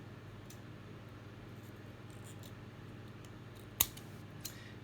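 Scissors snip once to free a bluish sterling silver pendant from a tangle of jewelry, a single sharp click standing out over a quiet, steady background hum.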